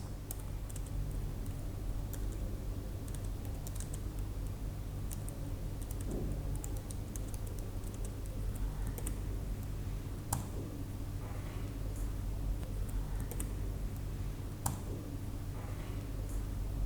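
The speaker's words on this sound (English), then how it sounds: "For that, we will type in Liquid Crystal and then type in LCD and give the port numbers." Arduino code for a 16x2 LCD is typed on a computer keyboard, producing quiet, close, irregular key clicks with occasional sharper taps over a low steady hum, with no talking.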